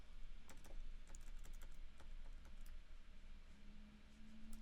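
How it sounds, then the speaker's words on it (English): Rapid, light clicking of computer keys while adjusting brush size in Lightroom photo editing, a steady patter of close taps with a faint tone entering near the end. "I'm using keyboard shortcuts to control my brush size, which makes it really quick when editing"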